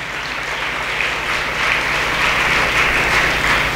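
A school gathering breaks into steady, sustained applause that honours Prabhat Kids school, filling the room evenly and growing slightly louder toward the end with no talking over it.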